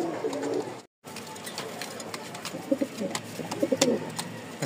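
Pigeons cooing in a loft, a few soft low coos rising in clusters toward the end over a faint background hiss and scattered chirps.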